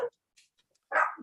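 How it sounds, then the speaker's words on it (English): A dog barks twice, one short bark followed by a louder one, close and clear with silence between. "Fucking dogs."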